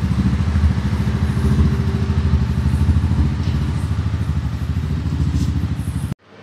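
Mahindra Mojo 300 motorcycle engine running steadily and loud at close range with a fast, even pulsing thrum, cutting off abruptly near the end.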